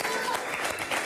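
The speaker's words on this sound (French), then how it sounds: "C'était bien, on l'applaudit encore." Studio audience applauding on a French TV entertainment show, a dense, steady wash of clapping through the brief moment, with a voice talking faintly underneath.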